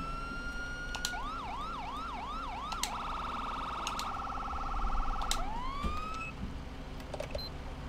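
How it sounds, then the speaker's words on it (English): Electronic emergency vehicle sirens in GTA V cycle through wailing sweeps, then a rapid steady yelp, then another rising wail, loud and continuous with no talking. "So those are the sirens."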